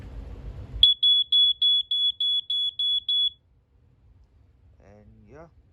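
A First Alert SA150LT smoke alarm sounds its test, giving eight loud, evenly spaced shrill beeps in a steady rhythm. A voice speaks briefly before and after the beeps.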